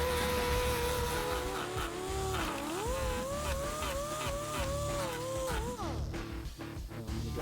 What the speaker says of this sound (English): Use a row lock disc to grind away the excess plastic.